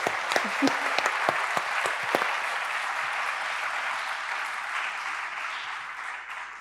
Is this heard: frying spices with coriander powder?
no